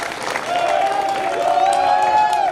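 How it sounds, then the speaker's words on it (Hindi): Audience at an open-air Hindi poetry gathering (kavi sammelan) in Vidisha claps steadily, with a sustained whistle-like or voiced tone riding over the applause. "जितने राम भक्त यहां बैठे हैं जोरदार तालियां बजाएं"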